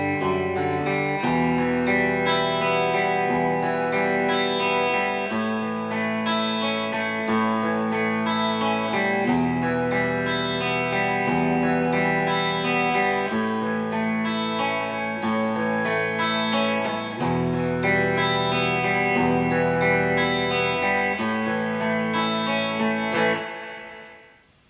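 Distorted guitar with effects plays the chorus of a song, steady sustained chords strummed continuously for about twenty-four seconds, loud and alone before fading at the end.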